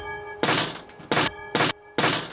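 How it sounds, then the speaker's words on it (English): Four heavy thuds of a train shop door banging shut, evenly spaced and loud, over a steady low hum. "Door slam."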